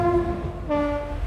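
Raebareli–Raghuraj Singh passenger train 04247 sounding its horn in a steady two-tone blast over the low rumble of the moving train, loud and close.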